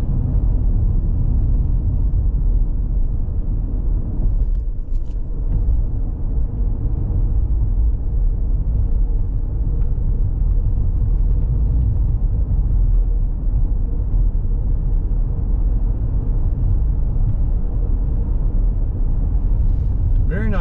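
Car on a winter afternoon highway drive from Silver Hill Rd to US Hwy 27 in Georgia, steady loud low road rumble and engine drone throughout, with occasional speech over it.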